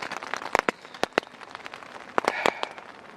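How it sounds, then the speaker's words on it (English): Rain falling outdoors on a cold day at about 8 degrees, irregular drops tapping and pattering on a nearby surface with scattered sharper hits, close and fairly loud, no talk. "So raining and cold is a difficult combination to be out and about."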